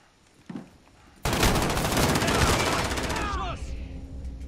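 Rapid automatic gunfire in the multiplayer shooter Call of Duty: Modern Warfare (2019), a loud sustained burst of shots with trailing shell and weapon clatter, preceded by a brief single sound.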